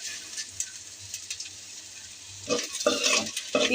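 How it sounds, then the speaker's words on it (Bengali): Onions fry in a pan for a Bengali mashed-onion bhorta with dried chillies, giving a steady soft sizzle that swells louder near the end with stirring scrapes and clinks, no voices. "ভালো করে পেঁয়াজ আমার ভাজা হয়ে আসছে"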